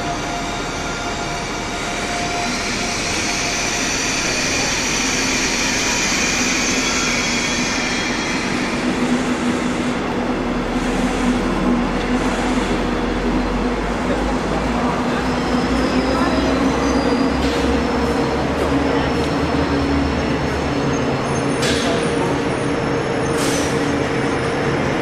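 A train pulls into Düsseldorf main station with a steady rolling rumble and the squeal of brakes and wheels. Faint platform announcements carry over the ongoing noise throughout.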